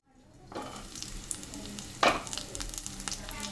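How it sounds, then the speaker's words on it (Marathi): Curry leaves, cumin, mustard seeds and garlic crackle in hot oil, a steady close sizzle with a sharp spattering burst near the middle, no voices. "छान असं कढीपत्ता पण चांगला तेलात भाजून घ्यायचा जिरे मोहरी लसूण चांगला भाजून घ्यायचा"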